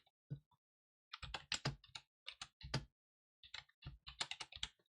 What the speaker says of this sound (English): Sorry, my keyboard is loud, though, it's like how it is.